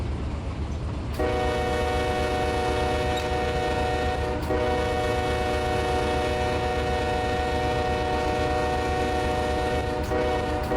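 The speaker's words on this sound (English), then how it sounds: "Train looks good." A freight train's horn sounds near and loud, a sustained multi-tone blast over the rumble of the rails, dipping briefly a few times as it holds on.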